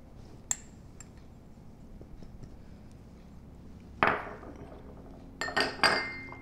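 Meatloaf mixture of eggs, grated cheese and soaked bread stirred together in a bowl, quiet and mostly still, then a few sharp clinks and scraping knocks of utensil against dish, loudest toward the end.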